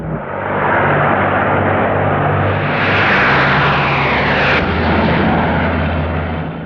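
Massed engines of bomber aircraft drone in a loud, dense, continuous roar that swells and recedes as the planes pass, with no voices over the noise.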